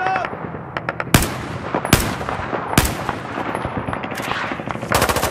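Gunfire in the video game Battlefield 4 during a Baku mission, loud sharp rifle and machine-gun bursts cracking out at irregular intervals over a dense rumbling battle background.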